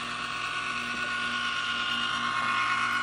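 A VPI HW-17 record cleaning machine runs with its brush turning in reverse on an album, giving a steady mechanical whir with a faint ratcheting, gear-like texture throughout.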